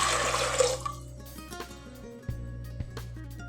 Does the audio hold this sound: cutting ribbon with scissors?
no